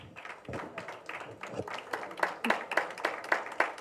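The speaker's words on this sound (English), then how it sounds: "a big round of applause to all of them" A crowd clapping at a dance event, a mix of scattered and steady hand claps at moderate volume, growing a little denser toward the end.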